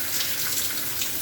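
Water streams steadily from a shower head on a three-way hotel spa shower system, a continuous broad hiss of spray heard close and alone with no voices.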